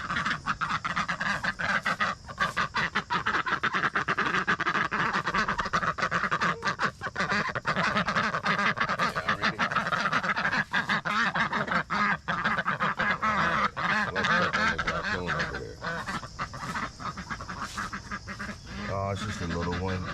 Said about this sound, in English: the ducks look like they happy to get out